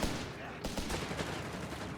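Grenade and rifle grenade explosions in the World War II strategy game Company of Heroes 3, a dense burst of loud blasts and gunfire with sharp impacts, under a commentator's voice.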